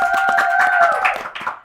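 Short burst of clapping from a small audience at a Ramadan program, quick hand claps over a sustained musical tone that fade within about a second and a half.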